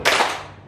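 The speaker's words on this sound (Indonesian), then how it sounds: "Kita main tepuk aja, tepuk." A single sharp hand clap in a classroom during a clapping game, loud and close, with a short ringing decay in the room.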